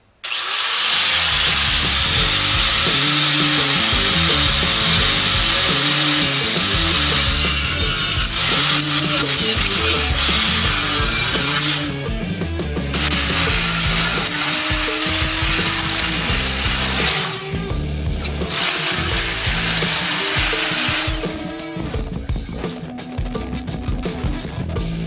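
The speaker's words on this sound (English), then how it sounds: "Some more trimming on my bracket for aesthetics and for placement." A power tool trims a coolant overflow tank bracket for a 1995 Firebird, giving a loud, steady grinding whir with a rattling mechanical texture that pauses briefly a few times, with almost no talking.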